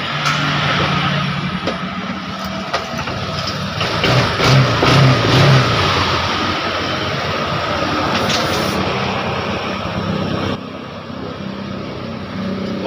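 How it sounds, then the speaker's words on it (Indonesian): Honda Vario 125 scooter engine from 2022 idling in a repair workshop after a sudden-stalling fault fix, a loud steady running drone with a slight swell in the middle, close by, with no talking. "berarti udah bisa langsung hidupkan motornya"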